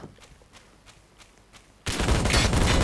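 Gunfire in the Roblox shooter RECOIL: faint, evenly spaced distant shots give way to a sudden loud, sustained burst of rapid fire that fills the rest of the moment.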